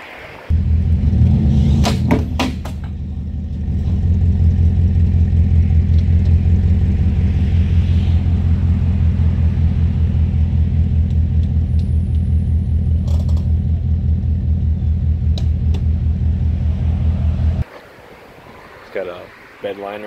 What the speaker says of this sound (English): Looks like someone put a cherry bomb exhaust on it.